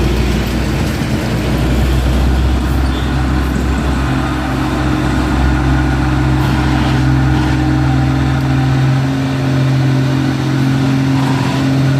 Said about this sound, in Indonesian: Truk molen, gak dapat persneling ini.